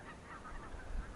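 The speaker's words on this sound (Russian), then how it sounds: "Блин, ребят, смотрите, сколько гусей." A large flock of geese, some three hundred birds, honks from snowy fields in early spring flood season, a brief burst of overlapping calls at middle distance.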